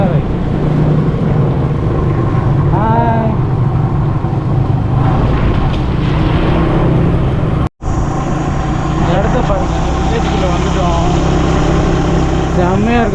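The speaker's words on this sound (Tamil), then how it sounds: "இப்போ டூ வீலர் எடுத்துகிட்டு தான் போயிட்டுருக்கோம்" A two-wheeler motorbike rides along a scenic countryside road, its engine and road rumble droning steadily and loudly throughout, with people talking over it.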